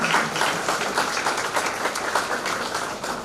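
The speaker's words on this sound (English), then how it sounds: "Not by raising hands, but by clapping." An audience at a college orientation programme claps steadily throughout, a dense, even wash of many hands with no pauses.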